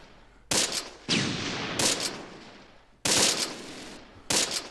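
Tank gunfire in the Close Combat wargame, Panthers in the Fog: four or five sharp, loud cannon and gun bursts, each a sudden crack followed by a short rumbling decay, spaced irregularly against a low background.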